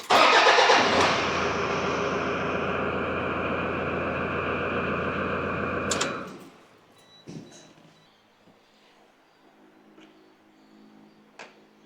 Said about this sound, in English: then we're going to start the car up and turn it off